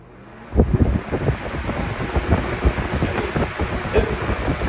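A Vornado Model 80 box fan kicks on at high speed and roars loudly and close, its rushing air buffeting the microphone in uneven gusts that continue without any voices.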